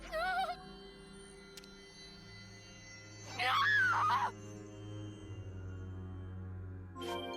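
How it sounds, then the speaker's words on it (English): In Xenoblade Chronicles 3, a soldier's high, wavering scream rises loud over the game's steady music and ambience for about a second, with brief vocal cries just before it and again near the end. "Dang, that was a good scream."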